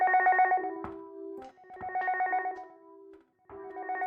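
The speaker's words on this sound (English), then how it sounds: "Because that phone is really loud" A loud electronic telephone ringing in a video game demo, repeated trilling rings in three bursts separated by short pauses, close and alone.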